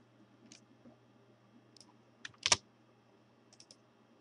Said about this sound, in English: Go ahead and type Java space dash